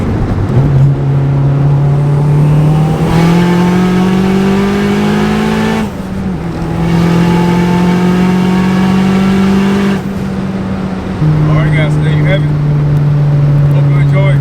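A turbocharged Mitsubishi Galant pulls hard through third and fourth gear, its loud engine note climbing steadily in each gear. Brief breaks for the shifts drop the pitch before it rises again.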